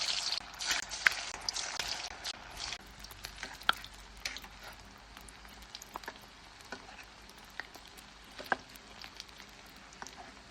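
Potato balls deep-frying in hot oil for a crispy potato snack, a steady, moderate sizzle and crackle with scattered sharp pops and spits throughout.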